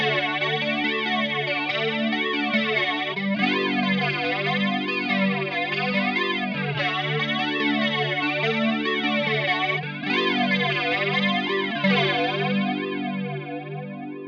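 ADA Flanger plugin for UAD 2 by Brainworx sweeping a sustained chord in steady, repeating comb-filter waves, loud and continuous with no talking, tailing off slightly at the end.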